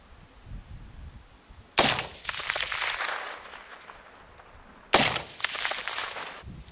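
Gunshots fired at a target in a tactical shooting setup: two sharp reports several seconds apart, each followed by a rattling echo decay over a steady high electronic whine and low background noise.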